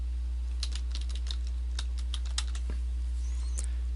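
Typing a domain name on a computer keyboard, a quick run of light close key clicks over a steady low electrical hum.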